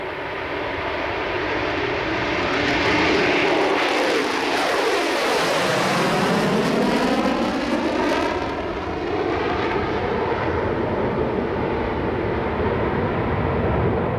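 Concorde's jet engines roar at full power without reheat during a touch-and-go at Shannon, a loud, sustained, close roar whose pitch sweeps as the aircraft passes, with no voices.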